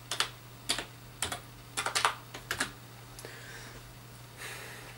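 A password being typed on a computer keyboard: a few quiet, close keystrokes in uneven clusters, then a soft lull with faint background hiss.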